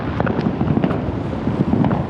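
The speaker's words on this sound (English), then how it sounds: "Fireworks in the distance." Distant Fourth of July fireworks on Beach Blvd in Orange County, heard as a steady muffled rumble with faint scattered pops far off, set in dense outdoor background noise.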